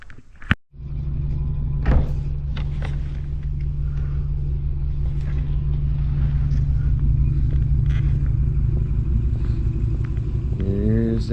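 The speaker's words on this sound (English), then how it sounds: "Here's Dad with the trailer." A truck arriving with a trailer, a steady close engine rumble that lasts throughout after a door-like thump near the start, with a brief rising whine at the end.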